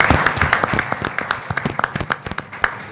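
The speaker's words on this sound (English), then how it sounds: "So I'd like to just give a round of applause to all of our athletes" A room at a school Board of Education meeting breaks into a round of applause for high school athletes and coaches, with sharp individual claps close by over a fuller clapping crowd, steady throughout.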